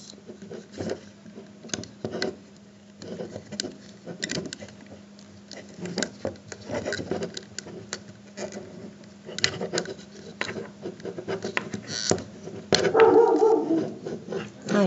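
A dog barks in short bursts from outdoors at a moderate distance, the sharp yaps recurring irregularly over a steady low background hum, with a louder burst of noise toward the end.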